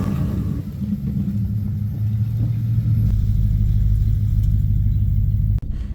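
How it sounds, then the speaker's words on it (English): Ford 302 small-block V8 in a budget Foxbody Mustang, a loud, deep exhaust rumble that builds in pitch as the engine revs, then cuts off abruptly near the end before resuming. "It has a very good sound note to the back of it, and that's brought to us by a 302 small block"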